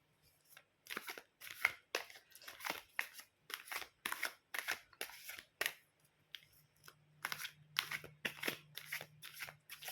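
Tarot cards are shuffled close up in a quiet room, soft papery riffles and snaps coming in quick, uneven bursts, one after another, with no talking.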